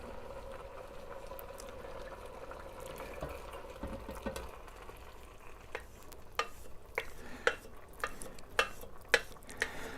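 Stock being stirred into red jambalaya in a pot, with a low simmering bubble and a series of sharp spoon clinks and scrapes against the pot growing more frequent toward the end.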